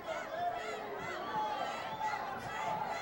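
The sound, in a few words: boxing crowd urging the fighters on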